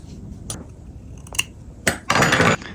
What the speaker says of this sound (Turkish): İpimi bu şekilde yürüterek ileriden kesiyorum.